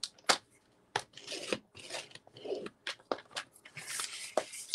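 Paper is scored on a paper trimmer for a no-glue notebook cover, giving a series of short, close, dry scraping strokes separated by brief pauses.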